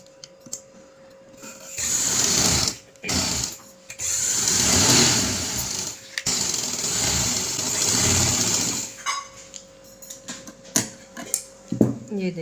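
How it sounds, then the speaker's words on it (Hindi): Sewing machine stitching the leg seam of a trouser runs in several loud, buzzing bursts of a few seconds each, separated by short pauses, then gives way to scattered handling clicks. "अब इसकी हम यहाँ पर सिलाई लगाएंगी एक पैर की।"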